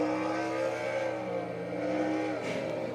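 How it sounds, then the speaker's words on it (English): A dirt-track race car engine revs hard as the throttle is hit, a sustained buzzing drone that rises and falls, heard alone without voices. "he just hit the throttle again"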